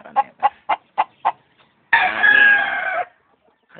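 A fighting rooster crows once, loud and close, in a single drawn-out call of about a second, preceded by a short run of five clucks.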